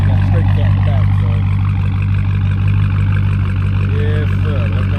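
A Dodge Charger Scat Pack with a Hemi V8 and a straight-cat exhaust idles with a loud, steady, deep rumble that sits close and continuous, with faint voices in the background.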